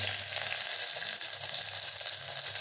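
Garlic, green chili and onion sizzle steadily in hot oil in a pan for a ridge gourd (tori) curry, a continuous close, even crackle with no talking.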